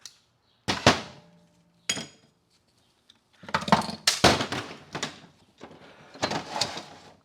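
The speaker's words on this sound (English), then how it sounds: "What just fell out is our band strut." A metal band strut drops out of a disassembled Subaru SVX 4EAT Phase 1 automatic transmission, producing a few sharp separate clinks and then a busier stretch of metallic rattling and handling noise nearby.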